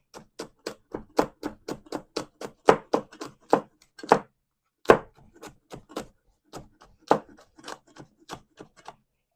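A knife chops hot pepper on a board in quick, crisp strikes, a couple dozen close, loud taps in uneven bursts with short pauses between runs.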